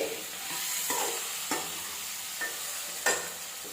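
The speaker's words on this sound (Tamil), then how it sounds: "நல்ல வெங்காயம் தக்காளி இந்த கத்திரிக்காய் எல்லாம் நல்லா வதங்கி வந்துடுச்சு" Onion, tomato and eggplant sauté in a pan for an eggplant and chickpea kara kuzhambu, a soft sizzle broken by a few spaced scraping stirs of a spoon against the pan, with no one talking.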